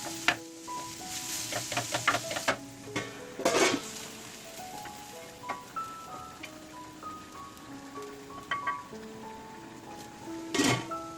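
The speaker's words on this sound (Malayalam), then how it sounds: "സവാള വീണ്ടും ഒന്ന് ഇളക്കി കൊടുത്ത് നന്നായി ഇളക്കി കൊടുത്ത ശേഷം നല്ല ബ്രൗൺ കളറായെങ്കിൽ" Onions for a chicken potato stew are stirred in a pan, with soft sizzling underneath and a series of scattered spoon clinks and scrapes against the metal, some sharper knocks standing out.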